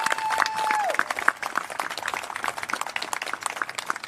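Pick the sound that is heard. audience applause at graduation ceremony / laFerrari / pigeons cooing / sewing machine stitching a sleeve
audience applause at graduation ceremony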